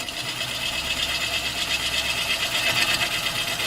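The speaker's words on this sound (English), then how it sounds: "allowing the wood to come over the cutting edge and cut" A gouge cutting a mallee burr on a wood lathe gives a continuous, loud, close buzzing hiss with a fast fluttering pulse from the spinning, uneven burr.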